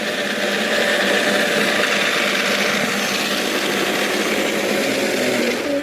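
The Drift King car's motor runs at full power, making a loud, steady whirring drone with a faint mechanical rattle that holds evenly for several seconds. It is close, with no voices.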